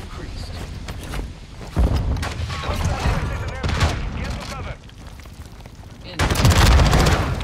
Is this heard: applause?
no